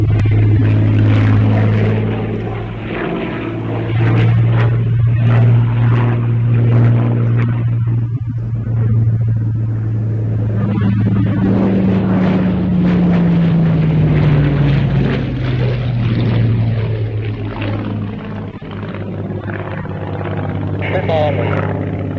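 A propeller aircraft at the East Kirkby Airshow makes a loud, droning engine hum whose pitch slides downward as it passes, with a constant low rumble underneath.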